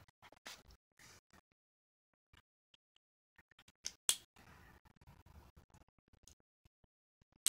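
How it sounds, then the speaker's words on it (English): A cat claws at its scratching post with short, dry scratching bursts, some loud and close, spread out in irregular clusters between quiet gaps. "That noise is my cat scratching her cat thing."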